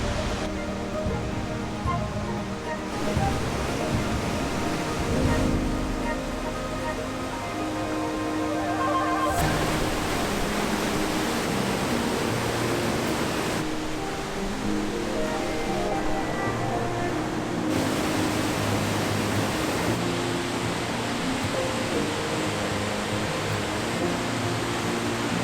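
A Swedish waterfall sends up a constant, dense roar of falling water and spray mist, heard close and loud throughout, with a few abrupt jumps in level between sections.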